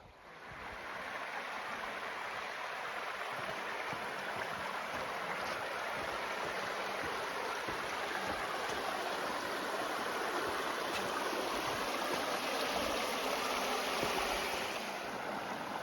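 A stream in Moab, Utah, swollen with spring runoff, rushes loudly and continuously, a dense steady roar of fast water heard up close with no let-up.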